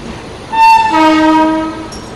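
The Kumbha Express, out of Moradabad, sounds a loud, sustained horn blast that swells and then fades, heard from onboard over the steady rumble of the moving train.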